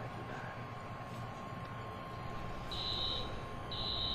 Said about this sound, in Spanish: Ha saltado la alarma.